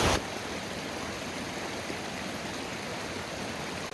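A mountain creek flows steadily along a high-elevation trail with patches of snow, its broadband rush constant, close and loud, with no voices over it for the full stretch.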